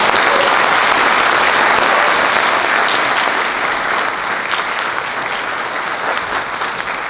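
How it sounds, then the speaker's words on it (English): A room of guests at a Mother Language Day celebration claps loudly for Grace and Marina, a dense, sustained round of applause that fades slightly toward the end. "if I could please ask all of you to give a small but loud round of applause for them"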